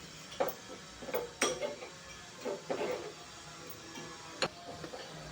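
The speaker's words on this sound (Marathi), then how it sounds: "ही मोहरीची डाळ आहे ना ही आता आपण भाजून घेऊया" Split mustard seeds dry-roasting in a pan, with scattered light scrapes and clinks of a spoon stirring them, close and fairly quiet.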